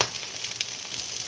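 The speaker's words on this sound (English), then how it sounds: "worry about that sizzle you hear" Plain brown rice sizzles while frying in a pan, a dense steady crackle of close hiss with faint scattered pops and no voices.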